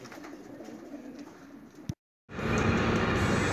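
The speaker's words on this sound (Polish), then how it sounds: "jest ponad 600 gołębi na kabinie" A sealed racing-pigeon transport cabin holding over 600 pigeons gives off a dense, steady murmur of cooing and bird calls, which cuts out for a moment and then returns louder and more broadband.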